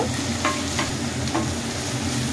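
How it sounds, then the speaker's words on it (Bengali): Chopped chili and onions fry in a pan for a prawn dish. A steady close sizzle runs throughout with a few soft stirring scrapes. "এবার কিছুটা সময় ধরে এগুলো নাড়িয়ে চাড়িয়ে নেব।"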